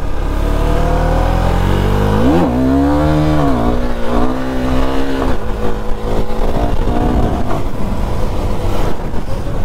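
A KTM motorcycle revving loud and close during wheelie practice, the engine holding a steady drone, then rising and falling in sharp pitch sweeps before settling into a rough, throbbing roar.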